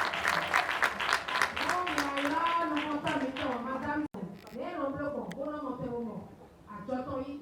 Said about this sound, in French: que nous accueillons très chaleureusement en applaudissant